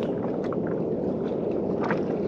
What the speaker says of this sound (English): It's actually so peaceful when the motor is off, like just the bobbing of the waves.